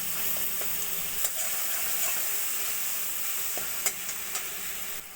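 Mustard paste hits a frying pan of cooked-down tomatoes with salt and turmeric for a bhola fish curry, sizzling steadily while a utensil scrapes and stirs in a few sharp clicks.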